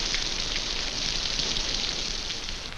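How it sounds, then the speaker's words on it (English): Rain falling in the jungle and filling open containers, a steady, dense hiss of drops with faint scattered patters, moderately quiet and continuous with no voices. "Even the rain works for them, filling open containers with good drinking water."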